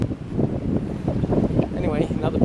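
Strong wind buffets the microphone on the Atlantic City boardwalk during a bike ride, a steady loud rumbling gust noise filling the whole stretch with no pauses.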